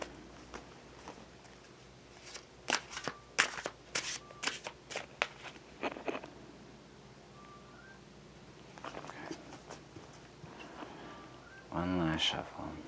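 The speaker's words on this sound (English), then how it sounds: "Alright, one more shuffle." A tarot card deck being shuffled by hand, a run of crisp riffling bursts and papery taps close by, with quieter stretches and a louder flurry near the end.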